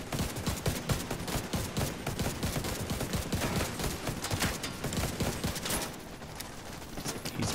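Dense, continuous automatic gunfire from The Division 2 rattles in rapid bursts for several seconds and eases briefly near the end before resuming. There is no talking.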